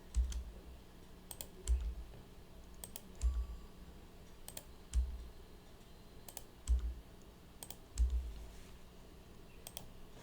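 Keystrokes on a computer keyboard come in short bursts of clicks spaced about every second and a half, with a low thud at the start of each burst, fairly close and with no talking.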